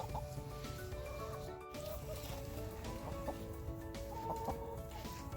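Pet chicken in a yard clucking in soft, repeated murmurs over a steady background hum, close and fairly quiet.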